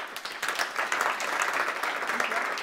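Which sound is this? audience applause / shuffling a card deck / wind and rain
audience applause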